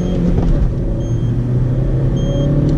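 A Seat Ibiza running on LPG with the air conditioning on, in first gear at full throttle, gives a loud, steady engine roar and cabin rumble from inside the car, with no talk.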